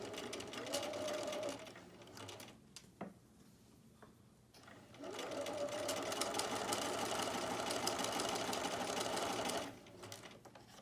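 A sewing machine stitches a half-inch seam in silk organza, two bursts of fast whirring stitching separated by a short pause with light clicks, close and clear.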